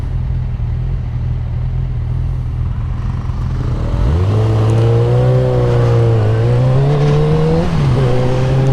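A Storm 200 motorcycle engine idles loudly and close, then revs up with a rising, wavering tone that dips and climbs again, a deep throbbing drone heard alone without talk.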